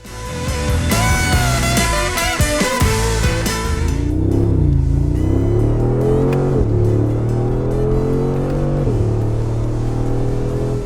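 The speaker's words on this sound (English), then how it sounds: "So let's go find out what this car is like to drive." A Mercedes G63 AMG SUV engine revs hard on the move, a loud, close, deep roar that climbs and falls through the gears without pause.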